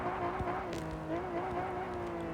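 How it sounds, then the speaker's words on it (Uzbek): A powerful car doing a burnout in the Car Parking Multiplayer video game, its engine drone and squealing tires running steadily and loudly throughout with no break. "Ana burnout boshlandi."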